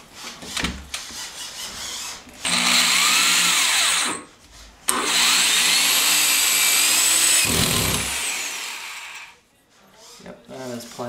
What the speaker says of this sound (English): Is that impact drill?